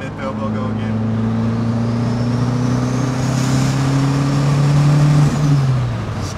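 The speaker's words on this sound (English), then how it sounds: "I just want to hear that turbo go again." A turbocharged Opel Kadett 16V with a 20XE engine revs hard and steadily up close, its drone rising in pitch over several seconds before easing off, with a faint turbo whistle above it.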